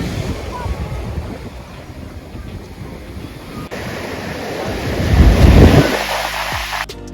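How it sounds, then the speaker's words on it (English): Gulf of Mexico waves wash against rocks at Venice Beach, Florida, a steady rolling surf under gusty wind noise, swelling into a loud close surge near the end. "Seeing and hearing the sounds of the Gulf waters hitting the rocks is out of this world."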